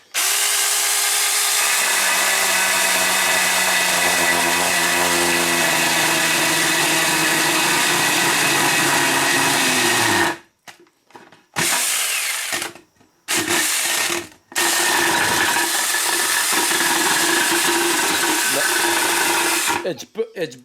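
Saker 4-inch mini chainsaw plunge-cutting nose first into wood, a loud close motor whine that strains as the chain bites, with several abrupt cutoffs and restarts near the end.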